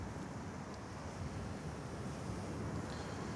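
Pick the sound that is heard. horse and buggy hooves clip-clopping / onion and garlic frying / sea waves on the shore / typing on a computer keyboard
sea waves on the shore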